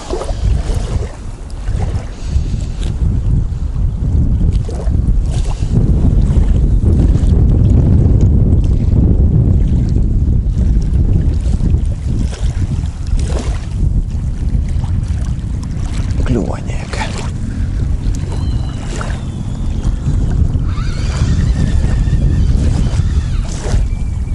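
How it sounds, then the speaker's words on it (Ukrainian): Strong wind buffets the microphone throughout, a loud, steady low rumble with gusts, and faint voices underneath, on a riverbank of the Dnieper in Kyiv during feeder fishing. "Ох, цей вітер."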